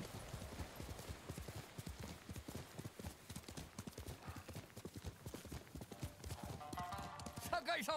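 Rapid, rhythmic horse hoofbeats in the video game Ghost of Tsushima clip-clop steadily at a trot, close and clear, with a horse's whinny near the end.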